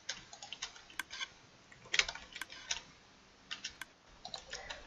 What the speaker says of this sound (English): But then we want it to not make an annoying clicking noise.